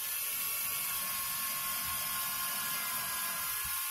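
A power drill whirs steadily and continuously while a red home theater PC case is being built, a close, sustained mechanical buzz with a faint rattling texture and no talking.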